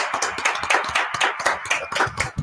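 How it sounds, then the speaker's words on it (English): Applause for a guest from a small group, a few people clapping close by in an uneven, brisk rhythm that holds at moderate loudness for a couple of seconds. "please give a round of applause for Mama Buck 2."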